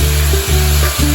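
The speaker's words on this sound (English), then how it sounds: "we got that frying really good" Food sizzles steadily in a pan while a spoon stirs it, scraping and shifting in a few slow strokes, loud and close with no talk.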